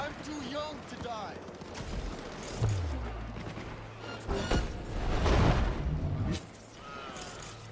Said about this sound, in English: Why is there gunfire over here?